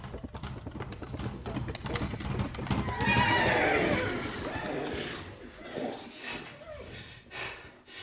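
A racehorse neighs loudly in a long, falling whinny near the middle, with clip-clopping hooves and busy background sound before and after.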